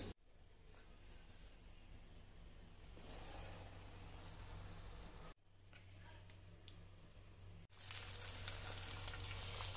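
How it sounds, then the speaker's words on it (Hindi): An egg frying in a little oil in a home kitchen, giving a faint, continuous sizzle and hiss that grows louder near the end, with a couple of brief clunks between. "ये अंडा भी फ्राई करूँगी बिल्कुल कम"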